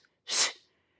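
One sharp, sneeze-like burst of exhaled breath from a yoga breathing exercise, close and loud, rising fast and trailing off within half a second, with no talking.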